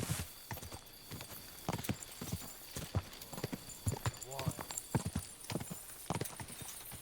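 Horse hooves clip-clop steadily in a video game as a mount travels, a rhythmic run of fairly close hoof strikes with a brief whinny, while a person talks over it.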